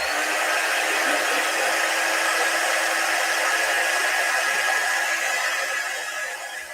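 A hair dryer blows steadily to dry a craft transfer, giving a continuous close whooshing whine with a constant motor tone that eases slightly toward the end.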